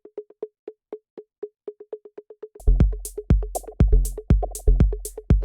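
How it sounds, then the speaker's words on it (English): A minimal house synth pattern of short, repeating plucked notes with delay echoes filling the gaps between hits; halfway through, punchy drums with bright cymbal hits join the loop. "you can hear the delay kind of fills in the spaces"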